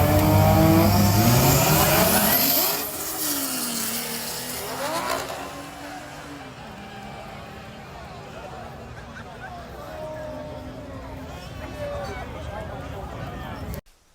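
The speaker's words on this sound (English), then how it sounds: "So in that clip, I was racing this big turboed Toyota Supra with this guy." A Mercedes SLK32 drag racing a big turbocharged Toyota Supra: a loud engine roar with rising revs at the start gives way to fainter, distant engine drone and crowd chatter, with voices talking over it.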